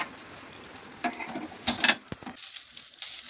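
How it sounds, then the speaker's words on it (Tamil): Asafoetida and garlic frying in a splash of oil in a pan, a soft steady sizzle with a few sharp clinks of a utensil against the pan in the middle, no voices. "பெருங்காயத்தை ஒரு செட்டு எண்ணெய் விட்டு வறுக்கிறோம்ப்பா"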